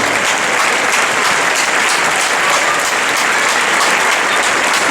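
Loud, continuous applause from an audience at an international folklore festival in Viveiro, Galicia, a dense wash of many hands clapping steadily with no speech.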